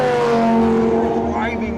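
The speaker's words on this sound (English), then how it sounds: "Getting behind the wheel of this thing and listening to that massive V12 roar" A Ferrari V12 supercar's engine roars close by with a strong, harmonic growl that climbs in pitch as it revs near the end.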